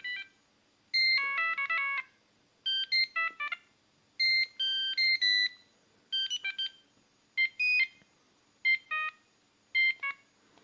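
A Siemens C75 mobile phone plays a ringtone file: short bursts of bright electronic beeping notes in a quick melodic pattern, separated by brief pauses, clear and alone with no talk.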